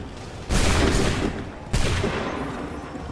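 Two musket volleys ring out in a Revolutionary War battle at Lexington and Concord in Assassin's Creed 3, each a loud burst of overlapping shots that rolls off over about a second.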